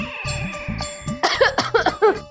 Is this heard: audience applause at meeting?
no